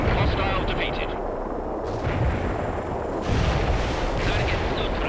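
Heavy artillery in the real-time strategy game World in Conflict booms in a dense, continuous barrage of loud rumbling blasts and crackling impacts with no pause.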